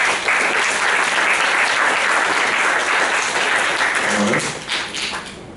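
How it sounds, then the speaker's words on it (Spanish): An audience at a football film festival talk applauds in a dense, steady burst of clapping that fills the room, then thins out and fades near the end. "Un aplauso"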